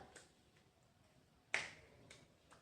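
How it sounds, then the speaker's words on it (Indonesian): One sharp, crisp clap of palms stands out in near silence, with a few faint softer taps around it. "kedua telapak tangan kita tepuk"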